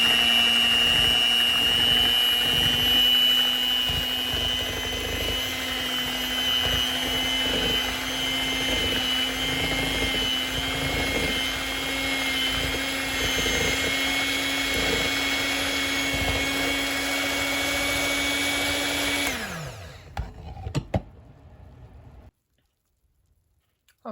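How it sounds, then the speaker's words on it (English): Electric hand mixer beating wet ingredients into butter and sugar for keto banana bread, a loud steady whine with a rattling edge for about twenty seconds, then powering down and stopping, followed by brief clatter and silence. "we're going to go back to our hand mixer now. And we're going to mix this up."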